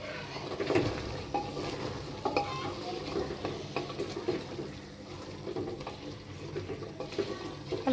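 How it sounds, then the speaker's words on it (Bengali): Potato chunks stirred and sautéed into beef curry in oil, a steady low sizzle with scraping spoon strokes against the pot, continuous and close, no talking. "আলুটা একটু নেড়ে চেড়ে কষিয়ে নেব 2 মিনিট, যাতে আলুর কাঁচা গন্ধটা না আসে"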